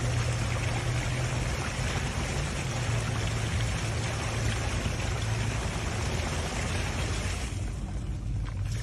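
Super-chlorinated water pours steadily from a flanged end of a polyethylene pipe, a loud continuous rushing gush with a low hum beneath, easing slightly near the end.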